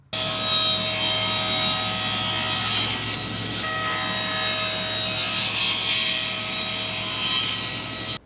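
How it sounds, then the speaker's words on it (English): A table saw fitted with a jig cuts through a pine board, giving a loud, steady whine and rasp of blade on wood that holds almost unbroken for about eight seconds, with only a short dip partway through. "That table saw jig made quick work of cutting these out."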